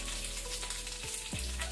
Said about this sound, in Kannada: ಅದರ ಜೊತೆನೆ ಡ್ರೈ ರೆಡ್ ಚಿಲ್ಲಿ